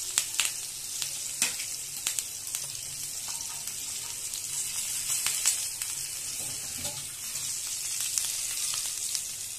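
Fresh curry leaves sizzle in hot oil in a pan, a bright, continuous crackling hiss sprinkled with sharp pops and spits, heard up close and steady with no talking.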